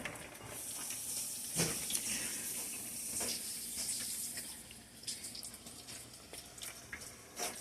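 Pork pieces frying in hot oil for sweet and sour pork, giving a steady close hiss and crackle with occasional sharper spits, no talking.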